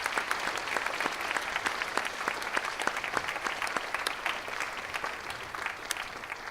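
Audience applause at a school band winter concert, a steady wash of many hands clapping across the hall, moderately loud and continuous with no voices over it.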